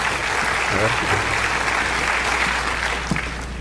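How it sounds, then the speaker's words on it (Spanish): Audience applause greets the speaker at a lecture on optimal experimental design, a continuous patter of clapping at fairly strong level with a brief voice breaking through near the start. "Las palmas son para él en estos instantes"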